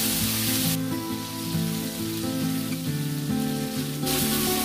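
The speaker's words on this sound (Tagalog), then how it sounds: "Ilagay na ang manok. Igigisa ito hanggang sa hindi na mukhang sariwa" Chicken sautéing with garlic in a pan for chicken binagoongan, a steady dense sizzle running throughout under a loud layer of background music.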